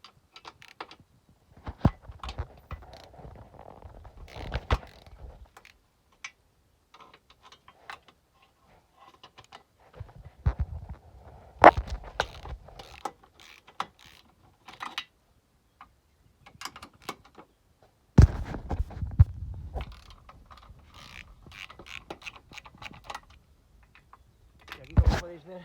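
Ratcheting socket wrench with a 13 mm socket and extension loosening deep-set radiator bolts on a BMW Mini R50/R52/R53, giving irregular clicks and metallic clatter in close bursts, with speech in between.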